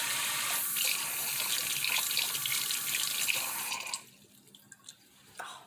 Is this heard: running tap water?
yes